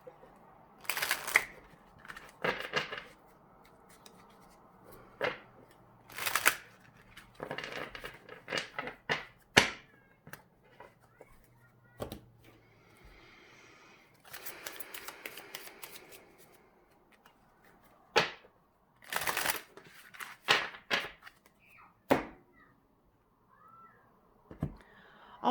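Tarot cards are riffled and shuffled in repeated quick bursts with pauses between, close and crisp in an otherwise quiet room.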